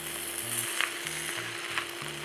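Chicken fried rice with egg sizzling steadily in a pan, a continuous close frying hiss with faint scrapes as it is mixed together, no voices.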